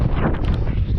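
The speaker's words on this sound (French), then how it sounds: "il y a énormément de vent ici" Strong wind blows across a roadside cycling climb on a mountain col near Marseille, a loud, constant buffeting rumble against the microphone without speech.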